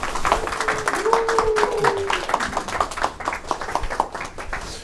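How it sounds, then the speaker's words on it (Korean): An audience claps warmly during a lecture to welcome the author Bang Hyun-seok, a steady rattle of many hands with a brief tonal whine running through it. "방현석 작가를 뜨거운 손뼉으로 모시도록 하겠습니다"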